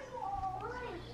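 A cat gives a single drawn-out meow, close and clear, with a person talking over it.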